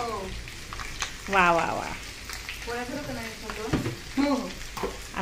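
Mutton frying in a pan at a home mutton party, a steady loud sizzle and crackle running throughout, with people talking over it.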